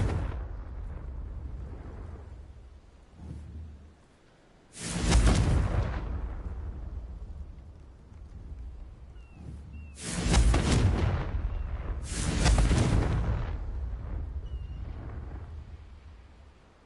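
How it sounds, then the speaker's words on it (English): Confringo fire spells from Hogwarts Legacy on PS5 detonate in three loud, separate blasts, one alone and then two close together, each a sharp boom with a rolling tail over a low game ambience. "Confringo."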